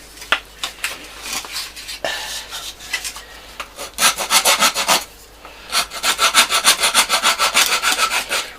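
Rhythmic rasping strokes of 80-grit sandpaper on wood, starting with scattered scrapes and settling into fast, even back-and-forth rubbing, close and fairly loud, while building a model minesweeper ship.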